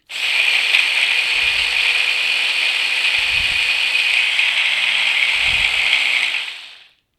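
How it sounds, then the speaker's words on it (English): Food processor whirring steadily as it breaks leftover bread into crumbs, a loud, continuous high-pitched motor drone with a few low thumps of bread tumbling in the bowl, running for about six seconds before it winds down. "you can just see that the processor is breaking that up into crumbs for me."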